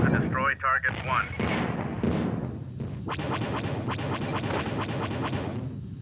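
Booming artillery fire in a naval combat video game, heavy blasts and crashing impacts mixed with radio-style voice chatter, followed by a run of rapid repeated gun reports.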